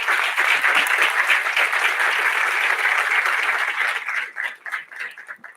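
An audience at a talk or conference bursts into loud, sustained applause that holds steady for several seconds, then thins into scattered claps as it fades out.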